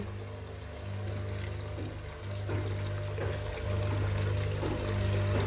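Water runs from a hose during a car wash, a steady pouring rush with a low mechanical hum beneath it, close and continuous, with no one speaking.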